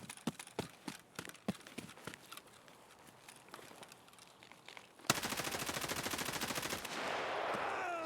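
Gunfire in the video game Escape from Tarkov: scattered single shots at first, then a long dense burst of rapid automatic fire, fairly faint overall.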